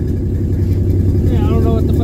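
A freshly built 500 hp Nissan RB25DET running rich on its first start, a loud, steady close-up engine rumble with a voice talking over it.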